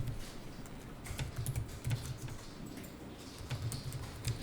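Fingers typing on a computer keyboard while entering accounting records, quiet irregular key clicks in short bursts with brief pauses between, fairly faint and with no one talking.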